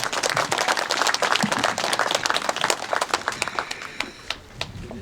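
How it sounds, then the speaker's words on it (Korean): An audience at a history rally at Hamchang station applauds to welcome a speaker, a dense burst of clapping that thins into scattered claps toward the end. "뜨거운 박수로 맞이해 주시기 바랍니다."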